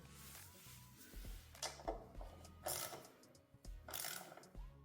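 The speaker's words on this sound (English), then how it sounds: "Get your bolt started. Get your 10mm socket." A ratchet with a 10mm socket tightening a bolt on a plastic engine cover of a Kia K5 2.5L GDI, giving soft, close clicking and rattling strokes in short bursts with quiet pauses between.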